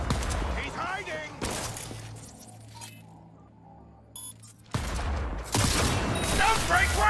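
Cyberpunk 2077 combat brings loud bursts of automatic gunfire with clinking debris. The shots come in two heavy stretches around a quieter gap, and voices speak in between.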